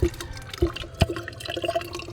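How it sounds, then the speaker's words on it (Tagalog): A weak water tap drips and trickles into water, with a few distinct splashy drops at irregular intervals over a faint continuous trickle. "Mahina naman ang tulo na iyan."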